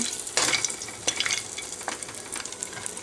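Cumin seeds sizzling in hot oil for a rice vermicelli upma, a steady frying crackle with a few sharper pops and stirring scrapes, close and moderately loud, no voices.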